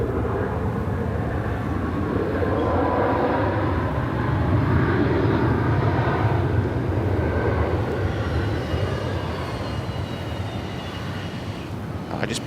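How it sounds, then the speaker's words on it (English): Jet engines of a Qantas Boeing 717 at Sydney Airport give a steady rumbling drone with a faint high whine, holding fairly constant at moderate level, with a voice talking briefly over it. "perfect sounds out of the 717 as well."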